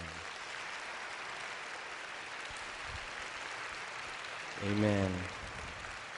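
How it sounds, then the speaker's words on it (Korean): A church congregation applauds its pastor in a soft, steady wash of clapping heard from a distance, with a brief voice rising near the end. "우리 신 목사님께 다 같이 박수 한번 드릴까요?"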